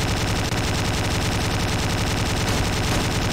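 Rapid automatic gunfire from the Slendytubbies 3 video game, a loud, continuous stream of shots with no pauses, filling the whole moment without talk.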